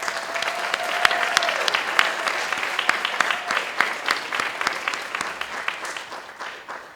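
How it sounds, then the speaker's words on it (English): Sustained applause from an indoor audience at an awards ceremony at City Hall in Bermuda, a dense steady clatter of many hands clapping that fades slightly toward the end, with no speech over it. "to give you a big round of applause."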